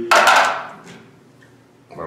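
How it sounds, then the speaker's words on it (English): Ice cubes are dropped into a small cup while making budget iced coffee, a sharp clattering burst near the start followed by a fading rattle and a faint later knock. "we put our ice in there"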